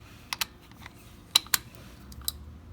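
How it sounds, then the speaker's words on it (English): A ratchet tightens the valve adjuster on a Yamaha Star 650, a handful of sharp, close clicks in uneven bursts over a quiet background, with no talking. "Take the ratchet and tighten it in."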